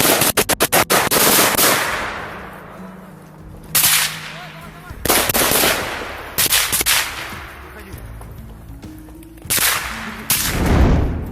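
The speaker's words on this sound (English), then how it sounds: "One shoots the rider point blank." Gunfire in a village roadside ambush of a cyclist, with a rapid burst of shots at the start and then several loud, separate blasts and short volleys spread across the scene, ringing out over low background noise.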